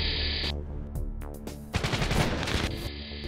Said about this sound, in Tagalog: Sa gitna ng putukan